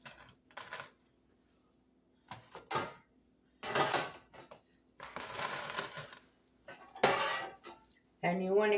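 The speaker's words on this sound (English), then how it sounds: "you want to coat your cup of blueberries in 2 tablespoons of flour" Cutlery and a bowl clink and scrape in a kitchen as a cup of blueberries is tossed in two tablespoons of flour, several short bursts of stirring separated by quiet pauses, close and fairly soft.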